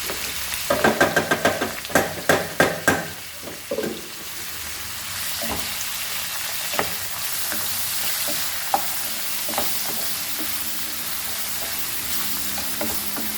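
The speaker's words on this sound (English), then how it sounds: "We'll fry this nicely." Tomatoes fry in a pan for Goan white pea usal. A few sharp stirring knocks come first, then a steady sizzle with occasional taps.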